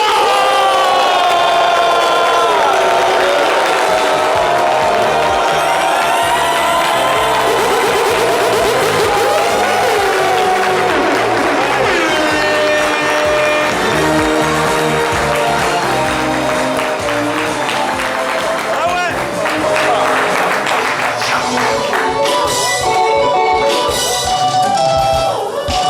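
A crowd cheers and applauds as a singer is welcomed on a live show, the loud roar running over music that plays throughout.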